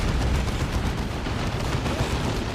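Cannon fire roars through a video game battle as a dense, continuous barrage of overlapping booms and rumbles, loud and steady for the whole stretch with no voices over it.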